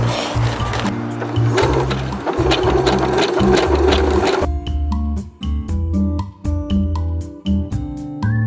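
A sewing machine stitches embroidery and zigzag patterns into a single layer of non-woven fabric, running in a steady, loud mechanical rattle for several seconds, then breaking into short start-stop bursts with brief pauses.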